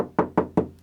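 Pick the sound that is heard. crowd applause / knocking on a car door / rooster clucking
knocking on a car door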